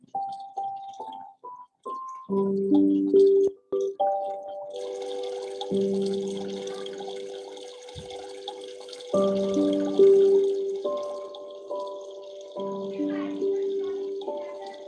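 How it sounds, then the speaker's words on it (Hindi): Soft flowing, dripping water blends into calm meditation music with sustained tones and gentle melodic notes, the water hiss rising after the opening bars and continuing underneath, with no talk. "कुछ पानी की कलचल का। तो पानी बह गया है।"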